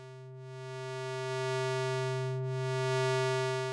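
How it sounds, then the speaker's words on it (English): A steady, buzzy sawtooth synthesizer tone with a bright harmonic stack, warping slightly as a ring-modulated layer, driven by a sine wave at half the frequency, swells in and hums on, no voices. "Now I'm going to turn up the ring modulator that has a sine wave at half that frequency."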